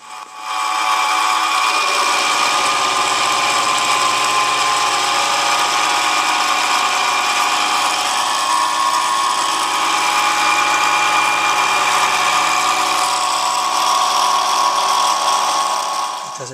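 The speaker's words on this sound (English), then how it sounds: "I'm going to climb mill across here to clean up these edges" A milling machine climb milling the edges of a fabricated base with a 4-flute end mill, a loud steady whine and cutting drone held continuously, rising in at the start and fading at the end, no talk.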